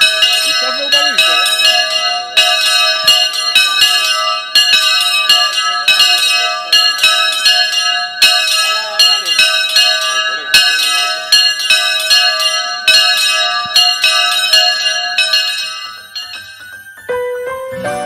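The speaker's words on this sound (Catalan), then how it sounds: "Ai, campanes de l'alegria!" Bright church bells ring at a festival fair in Gandia, striking in repeated clanging peals that sound close and loud, overlapping with long ringing tones and ending in a faint tail.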